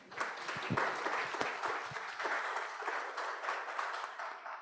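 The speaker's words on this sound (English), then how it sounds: "Let's give ourselves a round of applause" A round of applause from the audience at a conference panel session, fairly quiet and somewhat distant, with a few sharper claps early before settling into a steady patter for under five seconds.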